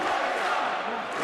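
Crowd noise from a live professional wrestling event during a submission hold, a brief, continuous broadband roar of cheering and shouting that stays dense and loud throughout.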